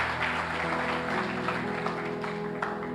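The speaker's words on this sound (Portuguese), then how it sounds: "Quantos podem aplaudir Jesus por isso?" A church congregation claps during a sermon while sustained organ or keyboard tones ring underneath; the applause is moderate and continuous for about three seconds, with one sharper clap near the end.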